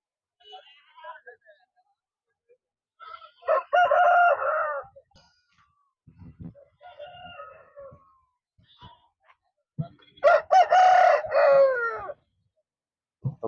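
Fighting-breed roosters crow loudly in two long calls at a livestock market, with softer clucks and brief voices scattered between them.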